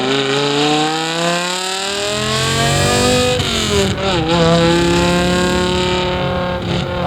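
A V10-swapped BMW E46 M3 revs loudly up close, its engine pitch climbing and falling through several throttle blips with a brief dip in the middle, no talk.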